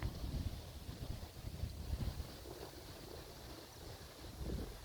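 Wind on a breezy day in Altamonte Springs rushes and buffets against the microphone as a continuous low, rough roar with a faint hiss above it, steady and fairly quiet throughout.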